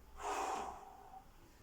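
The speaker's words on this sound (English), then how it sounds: "And breathing out." A single forceful breath pushed out during an upper-body workout squeeze, a short sharp gasp-like exhale up close that fades over about a second.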